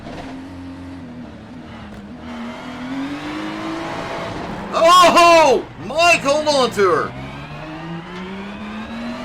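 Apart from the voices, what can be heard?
GT3 race car engine revving as driver struggles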